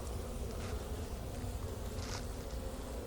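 Honey bees from an open hive being inspected with the frames pulled, a steady dense buzz filling the air throughout, fairly close and even in loudness, with no talk.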